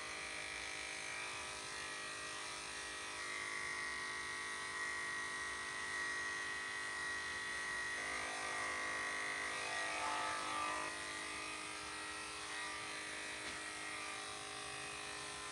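Electric hair clipper trimming a Chinese Crested dog's ear, a steady close buzzing drone that runs unbroken with slight shifts in pitch as it moves.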